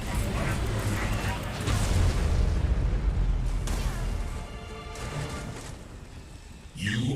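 Ion cannon strike in the Command & Conquer Rivals mobile strategy game: a sustained, loud rumbling blast that roars for several seconds, fades, then a sharp burst near the end, with game sounds layered over it.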